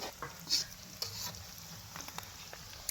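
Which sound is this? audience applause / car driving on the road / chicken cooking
chicken cooking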